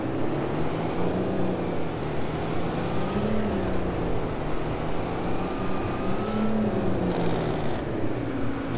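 A Pacific P16 truck with a Detroit 12V71 diesel engine in a driving game, its loud steady engine drone rising and falling in pitch as it accelerates, heard close and continuous throughout.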